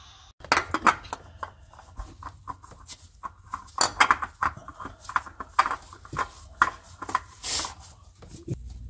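A new oil filter is hand-tightened onto the 5.3L V8 of a 2007-2013 Chevrolet Silverado 1500, giving a series of irregular close metallic clicks, taps and scrapes with brief pauses between them.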